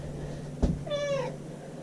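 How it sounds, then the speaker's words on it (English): A house cat meows once in a short, rising-falling cry, close by and clear against a steady low hum, with a brief thump just before it. "the cat will be meowing in the background because she just wants to talk all morning"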